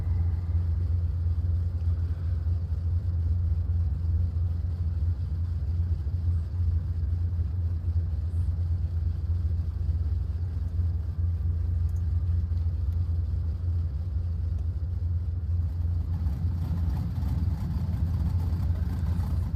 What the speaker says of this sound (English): Just hearing that radial engine, it's so nice.